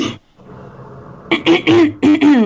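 A short, rough cough bursts out at the start, then a pause before a person begins talking.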